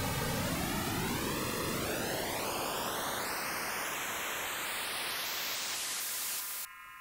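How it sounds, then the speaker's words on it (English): Broadband noise passed through an audio processor during setup shows comb filtering, a hissing wash with rising whistling notches sweeping upward, steady and loud before dropping away near the end. "if you've ever wondered what comb filtering means, this would be it."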